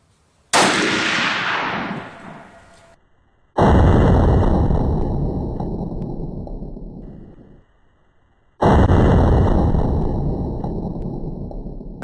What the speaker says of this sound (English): I'm going to sit right back and just relax and squeeze the trigger.